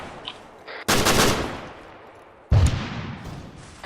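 Two loud bursts of automatic gunfire rattle in a military video game, with a short lull between them.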